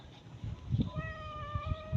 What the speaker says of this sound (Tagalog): Tinatakot ka ni pusa ko?